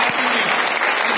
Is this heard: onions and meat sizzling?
no